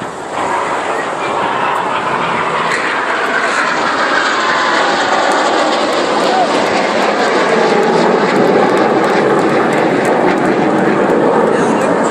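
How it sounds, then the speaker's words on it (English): RAF Red Arrows jets at the Clacton air show roar past loudly and continuously in a broad, sweeping rush while an announcer talks over the engine noise. "They fly back out to 100 feet, they're flying 300 knots apiece to complete the double rolls."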